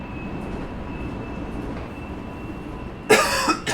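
An older type of metro train in the Hmmsim Metro game runs with a steady low rumble and a faint high whine, then a sudden harsh burst of hissing noise near the end.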